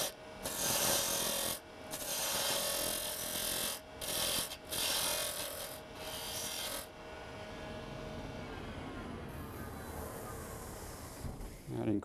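A wooden tenon for a pencil box is rasped round by hand in bursts of close, scratchy filing strokes, which give way to quieter rubbing.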